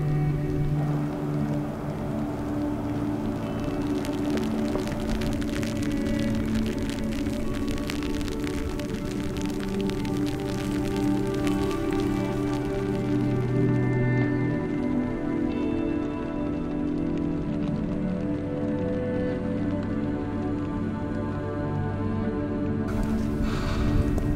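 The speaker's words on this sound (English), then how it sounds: "All right, well, the rain's back." Steady rain falling in the Australian High Country, a continuous patter on surfaces heard close and fairly loud throughout, with no speech.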